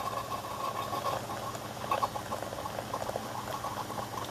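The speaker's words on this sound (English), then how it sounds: "It's got like a seltzer sound to it." Steady fizzing, bubbling liquid as a Keurig K-Duo coffee maker brews a foaming rinse pod, a continuous seltzer-like crackle at close range with no talking.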